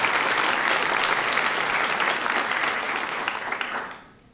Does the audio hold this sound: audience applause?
yes